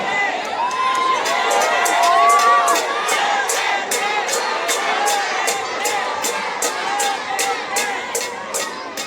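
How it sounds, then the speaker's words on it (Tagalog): A large outdoor political rally crowd in Manila shouts and cheers for Duterte in a loud, continuous roar, with rhythmic chant bursts and whoops throughout. "Ang sigaw ng mga tao ay Duterte."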